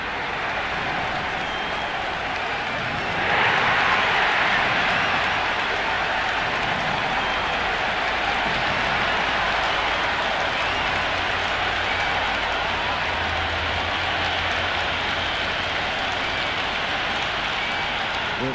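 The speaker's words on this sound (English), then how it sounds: "already the crowd is up and about" A stadium crowd in the cricket video game Cricket 26 roars in a steady, dense wash of cheering and applause before an IPL match, swelling slightly early on and holding throughout at a constant distance.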